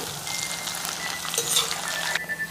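Okra frying in hot oil, a soft, steady sizzle with fine crackling pops close by, holding even for a couple of seconds.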